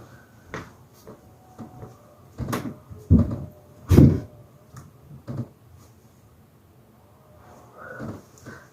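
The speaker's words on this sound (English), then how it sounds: "Really close the door." A door is shut in a cold house during a winter storm, giving several sharp knocks and thuds, two louder bangs near the middle, in a quiet room.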